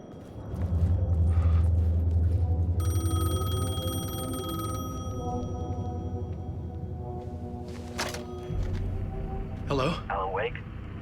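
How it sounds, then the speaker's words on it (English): Payphone ringing in the video game Alan Wake 2: a bright, repeated electronic ring with tonal overtones over a low rumbling hum, followed by a few sharp noises and a short burst of voice-like sound. "The payphone was ringing."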